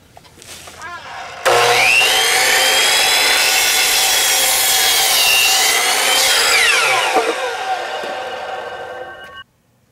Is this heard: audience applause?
no